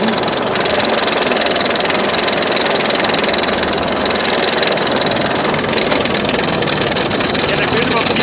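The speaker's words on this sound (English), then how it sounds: "I don't know how loud the lift hill is, if you can hear me." A roller coaster lift hill on the Wonder Woman coaster at Six Flags Magic Mountain, a loud, steady mechanical rumble and rattle that persists unbroken throughout, with a rider's voice faintly mixed in.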